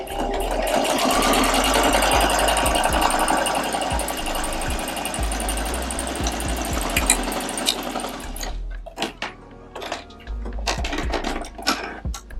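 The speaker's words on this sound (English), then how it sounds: "Go ahead and sew down your fold." A sewing machine stitches down the folded edge of a fabric face mask, running steadily and loudly for about eight seconds before stopping, followed by a few scattered handling clicks and rustles.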